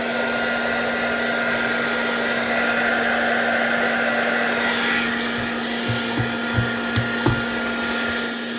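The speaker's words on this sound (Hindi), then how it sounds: "और इसके ऊपर अब मैं ये ड्रायर चलाने लगा हूँ।" A hair dryer runs on a Sorotec 1200-watt solar inverter under load, giving a steady, loud whooshing drone with a constant hum throughout and a few faint clicks near the end.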